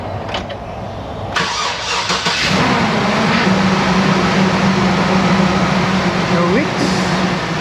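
A G van engine cranks and catches, then settles into a loud, steady idle that hums on to the end, with a person talking briefly near the start.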